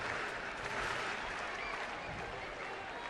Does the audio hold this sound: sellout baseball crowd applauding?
yes